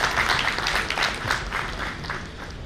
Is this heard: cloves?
no